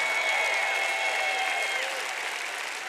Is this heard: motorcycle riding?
no